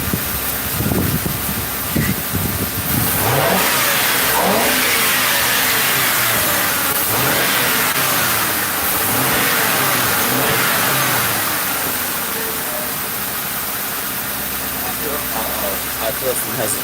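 A police car engine under repair runs steadily close by, rising and falling in several revs over a continuous idle, with people talking over it.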